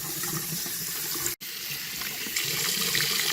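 Tap water runs steadily into a sink while a vintage Ideal Toni doll's hair is washed. The flow is close and continuous, cutting out for a split second near the middle before resuming slightly louder.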